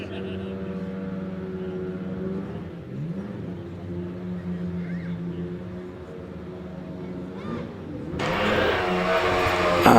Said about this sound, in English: the ex-Nicky Lauda BRM that goes under the bridge now